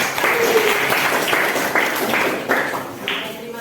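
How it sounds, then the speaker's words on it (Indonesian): A classroom audience applauds a student group, a steady, fairly loud burst of clapping with sharper claps popping out from the crowd, continuing to the end without talk. "kita berikan aplaus untuk kelompok"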